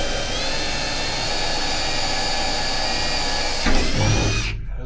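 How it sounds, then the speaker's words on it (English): A small drill bit bores a hole through the metal body of a camper van during a build, a steady high-pitched whine running for almost four seconds before the bit breaks through with a brief rougher burst and stops. "I'm going to start with a small drill bit and work my way up to a bigger drill bit"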